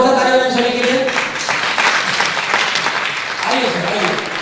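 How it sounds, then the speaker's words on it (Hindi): An audience at a stage event breaks into loud, continuous applause, many hands clapping close together for about four seconds, with voices mixed in over it. "जोरदार तालियां बजाएं सभी के लिए"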